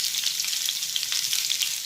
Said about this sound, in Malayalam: കടുക് പൊട്ടിയിട്ട് നമുക്ക് അതിലേക്ക് ഉള്ളി ഇടാം.